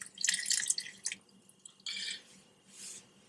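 Warm water pours into a bowl of oats for homemade dog treats in a few close, splashy bursts separated by brief pauses.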